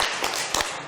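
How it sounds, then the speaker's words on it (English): Applause from a small meeting audience at a Glasgow community anti-racism gathering, a brief burst of scattered claps heard up close. "another round of applause"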